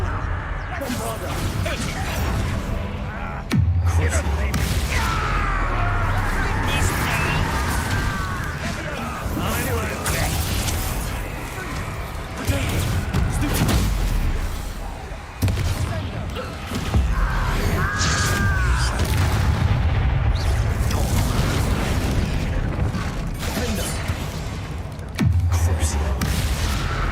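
Bombarda blasting spells erupt in Hogwarts Legacy combat, loud booming explosions and crashing impacts repeating over a dense, continuous battle mix with game voices talking throughout.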